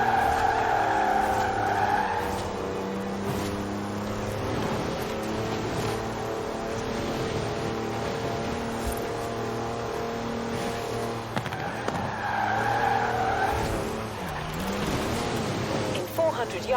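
A Mercedes wagon with four-wheel drive and air suspension drives off-road in Forza Horizon 4, its engine droning and revving steadily throughout, with tires scrabbling over rough ground and a voice talking over it.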